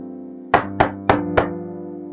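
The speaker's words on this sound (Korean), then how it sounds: "그때 갑자기 또 누군가가 문을 두드립니다." Four firm, evenly spaced knocks land on a door, close and resonant, in a dramatized reading of Dostoevsky's Crime and Punishment, with no voice over them.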